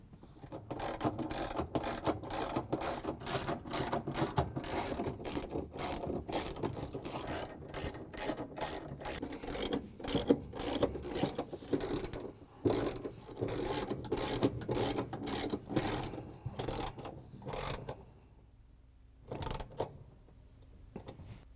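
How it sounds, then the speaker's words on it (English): A ratchet with an extension and a 3/8 inch socket drives bolts into a GE washing machine transmission: rapid continuous clicking strokes for about seventeen seconds, close and steady, then a brief pause and a few final clicks, with no talking. "We're just going to use the ratchet with the extension and the 3/8" socket to put all these in."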